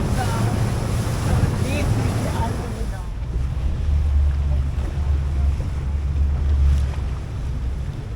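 A boat out at sea near the Similan Islands, with a steady low engine rumble, wind buffeting the microphone and water washing around the hull, a brief burst of splashing early on, and no clear voices.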